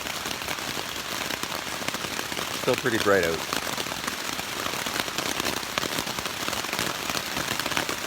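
Steady hiss of hard rain pouring down during a thunderstorm, constant and broadband, with a brief crackling burst partway through and a voice speaking briefly over it.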